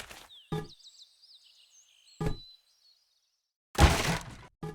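Explosive cracking bursts from a house being blown up with a rocket in Garry's Mod, a short crack near the start and another midway, then a loud, dense breaking blast near the end, with a faint chirping whistle trailing between them.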